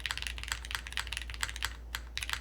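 Rapid typing on a plateless mechanical keyboard fitted with milky yellow switches, a steady run of deep, close keystrokes in uneven bursts with no voices.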